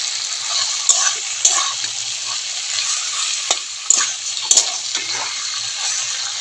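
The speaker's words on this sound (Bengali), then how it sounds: "এখন আমি মাছের তেলটা করে নিচ্ছি" Katla fish fat frying in a pan gives a bright, continuous sizzle, broken by a few sharp clicks of stirring, close up with no talking.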